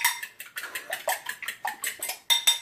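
A utensil whisks shrimp batter with milk in a bowl, producing rapid rhythmic clinking and scraping strokes, close and clear, with no talking.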